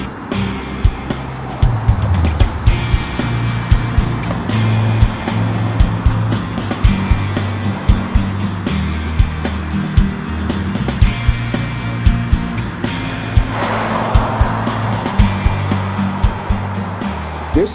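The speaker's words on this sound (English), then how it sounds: "And so the truck will be heading back." A truck drives away from a demolition site after the last concrete piles are cleared, a rolling low engine rumble with repeated knocks and rattles over the road and a brief louder rush near the end.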